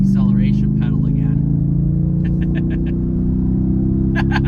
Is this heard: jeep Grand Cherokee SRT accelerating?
yes